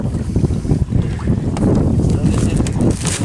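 Wind buffets the microphone in loud, low rumbling gusts, with a voice faintly heard through the noise.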